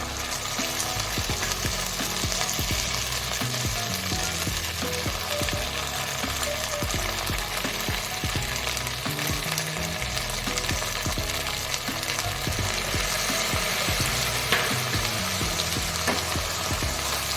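Gobi Manchurian with tomato, chilli and soy sauce fries and is stirred in a pan, giving a steady loud sizzle with scraping stir strokes throughout, no voices.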